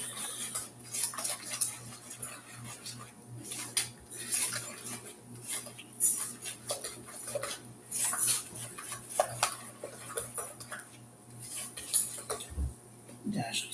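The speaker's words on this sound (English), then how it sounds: "I'm just gonna beat the eggs in with my spatula" Spatula beating eggs into chocolate brownie batter, repeated clinks and scrapes against a bowl in an uneven working rhythm, close and moderately quiet, with occasional voice in the background.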